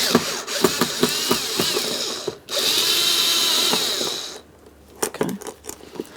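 A power driver whirs in short bursts close by while backing out a Phillips head screw near a vehicle's rear lift gate, with a sustained run in the middle and small clicks and taps afterward.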